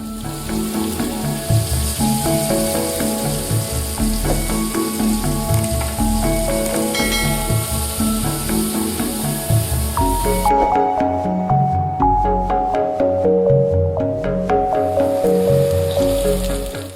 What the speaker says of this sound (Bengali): এবার গরম তেলে গোটা জিরে ফোড়ন দিয়ে আলুগুলোকে ভালো করে ভেজে নেব আমরা